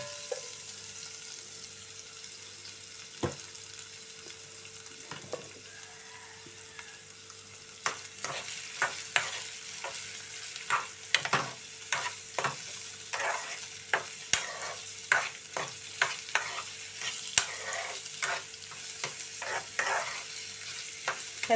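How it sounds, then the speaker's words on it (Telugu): Bitter gourd pieces fry in hot oil with a soft steady sizzle, then a spoon begins stirring, scraping and clattering against the pan in quick irregular strokes over the continuous frying. "ఆయిల్ కాగింది."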